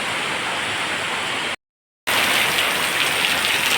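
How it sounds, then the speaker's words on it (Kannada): Heavy rain pours down outdoors at a home, a dense, loud, continuous hiss of falling water that cuts out briefly midway and then resumes just as strong. "ಜೋರು ಮಳೆ ಬರ್ತಾ ಉಂಟು."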